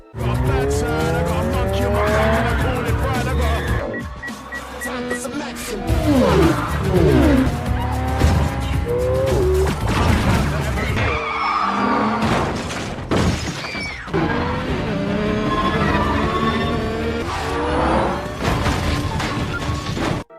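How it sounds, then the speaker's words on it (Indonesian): An action-film car chase roars nonstop, with revving engines, long squealing tire skids, and bursts of smashing and shattering crashes, loud and dense for the whole stretch. "Shaw segera memacu mobilnya yang langsung dikejar oleh Brixton dan anak buahnya."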